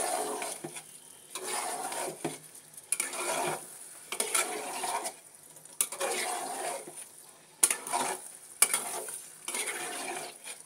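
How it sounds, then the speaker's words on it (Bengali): Beef for biryani stir-fried in a pan, with repeated close scraping strokes of a spatula over a steady low sizzle, in irregular bursts with no talking. "আমি কিছুক্ষণ ভাজা নেড়ে চেড়ে মিশিয়ে নেব ভালোভাবে।"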